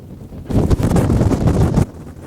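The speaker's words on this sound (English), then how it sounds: "the noise of the wind howling in the rigging" Storm wind howls and roars through the rigging of a sailboat riding at anchor off Hawaii, a loud sustained gust that swells up, holds for over a second, then drops back to a low rushing background.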